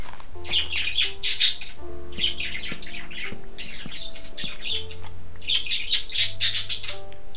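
Repeated loud bird squawks and chirps from the bird in a Minecraft game, coming in several bursts over a steady low hum, with no talk.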